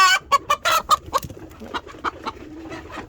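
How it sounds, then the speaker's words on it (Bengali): Laying hens in a coop, one clucking loudly in a quick series of sharp calls close by, then softer scattered clucks trailing off. "এই যে এই মুরগিটা ওকে জ্বালাচ্ছে, বিরক্ত করছে"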